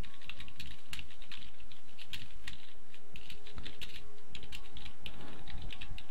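Clicky computer keyboard typed in rapid, irregular bursts of sharp keystrokes, close and steady throughout with no talking.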